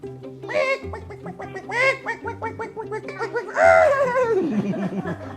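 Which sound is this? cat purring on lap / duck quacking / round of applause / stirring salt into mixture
duck quacking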